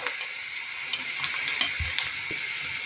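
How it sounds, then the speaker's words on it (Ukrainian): Onion and grated carrot fry in a pan with a steady close sizzle, broken by occasional clicks and scrapes of stirring, with no speech. "Цибуля трошки просмажилася. Така зробилася трошечки прозора, можна додавати сюди вже моркву."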